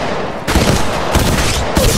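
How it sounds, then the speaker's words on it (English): Gunfire in Apex Legends Mobile: loud, close bursts of automatic shots arriving in three distinct volleys, each cutting in sharply over a constant game background. "Getting shot at."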